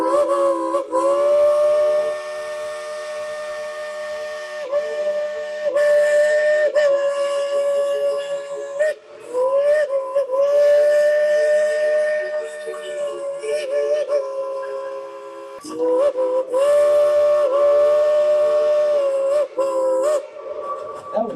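A steam locomotive on the Dollywood theme park train ride sounds its whistle in long, sustained, loud blasts separated by short breaks, over a continuous rumbling background.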